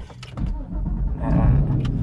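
Porsche GT3 engine cranking and catching at Sentul Circuit, a short starter whir rising into a low idle rumble, close and moderately loud.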